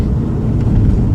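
Engine of a Vauxhall Vectra SRi with a 2.2 under load, a steady low rumble and drone that holds evenly without breaks.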